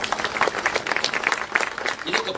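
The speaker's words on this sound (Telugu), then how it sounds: "ఆనందించి చప్పట్లు కొట్టారు లేదా" Audience at a humorous Telugu discourse by a speaker clapping in a brief burst of close, crackling applause, with talking heard alongside.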